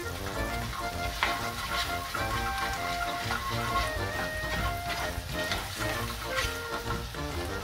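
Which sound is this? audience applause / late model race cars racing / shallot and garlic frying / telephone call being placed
shallot and garlic frying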